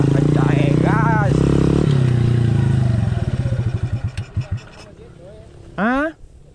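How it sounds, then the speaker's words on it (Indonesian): Motorcycle engine under hard acceleration with the throttle opened wide, a loud rising roar that climbs and then drops into throbbing pulses as it settles, ending with a short sharp rev; a voice talks briefly partway through. "sekarang masuk 2 kali kita kencang gas"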